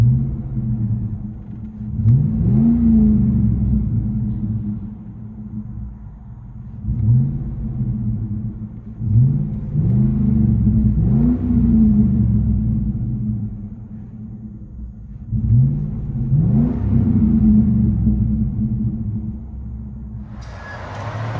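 A 2008 GMC Sierra 4.8L V8 with a Flowmaster 40 exhaust, heard from inside the cab, gives four loud, deep revs that rise and fall over a steady low idle rumble, with no talking.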